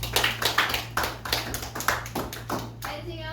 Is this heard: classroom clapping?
yes